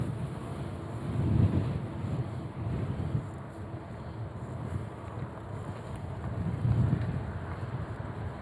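Wind buffets the microphone in uneven gusts while riding along a beach boulevard in Gulf Shores, a low rumbling roar that swells and fades, with no voices.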